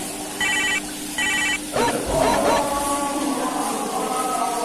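A telephone rings in two short electronic trills, then gives way to clatter and a low background murmur as someone picks up.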